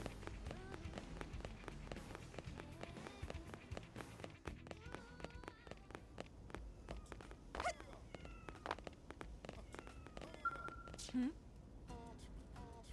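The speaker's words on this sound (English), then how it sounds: "I'm playing with this cat." A cat in the video game Xenoblade Chronicles X meows a few times at a quiet level, under a game soundtrack, light tapping and footstep sounds.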